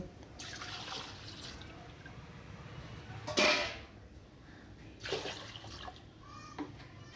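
Water poured into a pot for boiling eggs in a village kitchen, a few short splashing bursts with quiet trickles between, close by and without speech.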